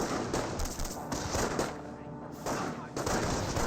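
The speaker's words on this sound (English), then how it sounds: "Looks like the Jeep is getting some fire there onto the Panzer Grenadier squad." A Jeep fires on an infantry squad in the World War II strategy game Company of Heroes, with dense, rapid bursts of gunfire and distant battle noise filling the short stretch at moderate loudness.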